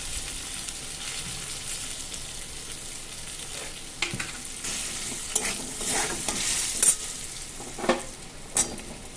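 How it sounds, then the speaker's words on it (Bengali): Potatoes with turmeric stirred in a frying pan, a low constant sizzle with scattered scrapes and clinks of a utensil on metal that grow busier partway through, close and soft, with no one speaking. "হলুদটা দিয়ে ভালো করে আলুটা মিশিয়ে নিয়ে"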